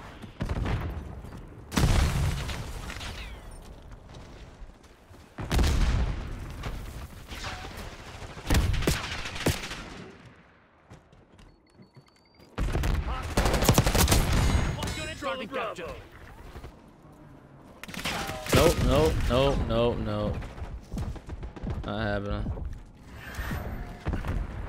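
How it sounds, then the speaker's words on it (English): MP5 submachine gun fire in the shooter Black Ops 6, loud rapid bursts in several clusters with short pauses between, a voice talking between and over the shooting. "This MP5 feels amazing."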